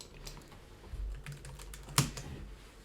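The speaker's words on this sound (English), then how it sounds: "See how quickly I type waves then." Rapid keystrokes on a computer keyboard, a quick irregular run of close, crisp clicks with one louder key strike near the end, no voices.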